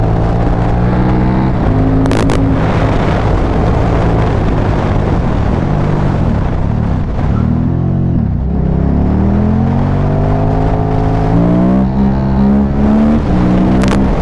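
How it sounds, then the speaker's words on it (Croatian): A 2005 KTM 950 SM supermoto motorcycle engine runs loudly and steadily up close, its deep multi-cylinder drone shifting pitch as revs rise and fall, with no talk over it. "Motor cili, vibrira, šuška, to mi se ne sviđa"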